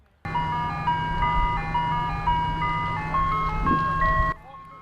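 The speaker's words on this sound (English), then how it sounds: "you know it's football season when you hear the ice cream truck" An ice cream truck's tinkling electronic jingle plays a repeating melody over a low idling engine, starting and stopping abruptly.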